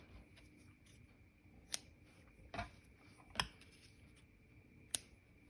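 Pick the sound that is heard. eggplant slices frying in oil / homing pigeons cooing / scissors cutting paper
scissors cutting paper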